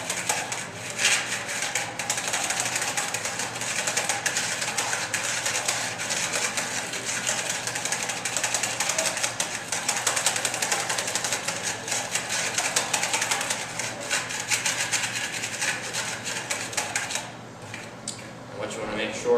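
A power mixer agitates American Clay limewash with lime putty in a bucket, a steady whirring churn with rattling texture that continues for most of the time and then eases near the end.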